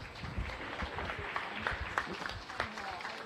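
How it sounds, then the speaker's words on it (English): Light applause for young exhibitors at a county fair beef cattle show, faint scattered clapping in an indoor arena with crowd murmur and some voices underneath. "We'll give these kids a big round of applause."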